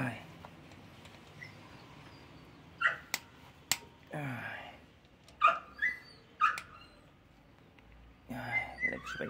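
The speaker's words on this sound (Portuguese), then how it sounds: "desculpe o cachorro latindo" A dog in a home garage yaps and whimpers in short, scattered bursts at moderate distance, with quiet background noise between the yelps during a motorcycle oil change.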